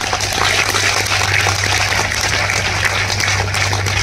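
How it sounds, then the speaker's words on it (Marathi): Loud, dense applause from an audience honouring a guest at a ceremony, a steady wash of clapping with a low hum underneath throughout. "टाळ्या मात्र वाजवूया जोरात"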